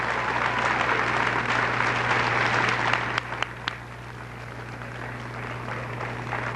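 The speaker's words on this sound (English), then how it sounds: "they deserve a big round of applause for keeping the building maintained" A room of people clapping for the school custodial staff at a junior high graduation, steady applause that thins out about halfway with a few last scattered claps and a low hum underneath.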